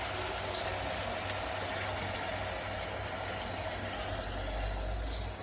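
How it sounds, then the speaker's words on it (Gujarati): Water is poured steadily into a pan of spiced masala for stuffed brinjal curry, a continuous close gushing rush lasting several seconds with no talk. "આમાં પાણી થોડું એડ કરીને મસાલાવાળી ડીશમાં"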